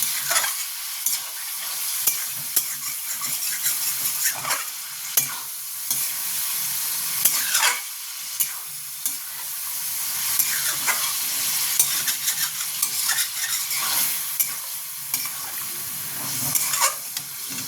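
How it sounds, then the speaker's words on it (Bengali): Chicken mince (keema) fries in a pan with a continuous hiss and sizzle, punctuated by repeated scraping stirs of a spoon, close and fairly loud, with no one talking. "কিমাকে যত ভালোভাবে ভাজবেন তত টেস্টটা হবে"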